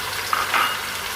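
Ground spice paste for jengkol rendang sizzles briefly in a hot pan, a soft frying hiss with a slight stir, faint and close.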